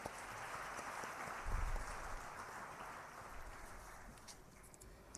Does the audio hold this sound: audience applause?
yes